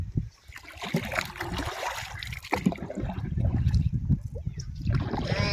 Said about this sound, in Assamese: আপোনালোকে নাও চলাব জানেনে এনেকা মাৰিব